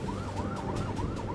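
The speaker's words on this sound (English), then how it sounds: "We have a siren." A wailing emergency-vehicle siren rises and falls in repeated sweeps over steady road traffic noise, loud and continuous through the whole moment.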